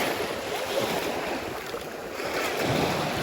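Steady surf washes onto a white sandy beach in Turkey with a broad rushing hiss, mixed with wind buffeting the microphone, and no voices.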